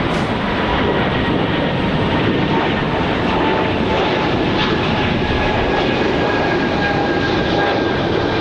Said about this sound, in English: Hopefully a nice early rotation for JetBlue